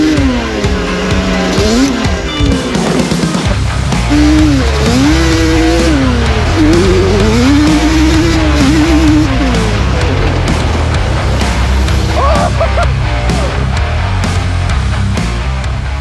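A Banshee 421 ATV engine revs hard through a hot lap on sandy trails, loud and close throughout, its pitch rising and falling with repeated throttle sweeps and gear changes.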